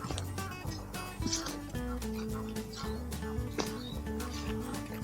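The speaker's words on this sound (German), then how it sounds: "man hört die Vögel ja" Scattered bird calls and chirps from birds near hidden water behind scrub on a countryside walk, fairly faint against an uneven outdoor background, with a few brief barking-like sounds mixed in.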